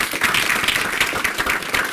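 An audience at a soft-skills workshop at KBC NMU claps together, a dense, steady patter of many hands that fills the whole short stretch at close range, with no voices over it.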